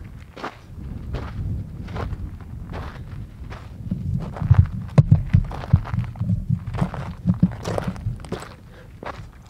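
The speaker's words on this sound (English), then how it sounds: "Those footsteps are mine." Footsteps on a stony desert trail beside an old Route 66 ghost town, a steady series of crunching steps close by, getting louder and more distinct midway.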